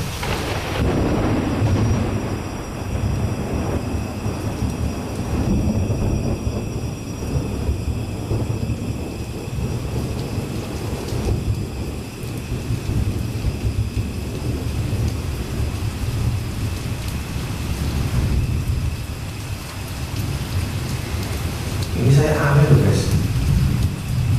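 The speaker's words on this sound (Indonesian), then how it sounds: "Ketambahan hujan petir ini ya, hujan plus petir ya teman." Heavy rain pours steadily at close range with low rumbling thunder beneath, during extreme weather, a dense continuous wash of sound with a brief louder swell near the end.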